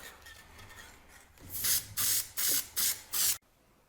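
Clear coat is sprayed from a can onto 3D printed claw forms in five short, loud, evenly spaced hissing bursts, with a quiet background before and after.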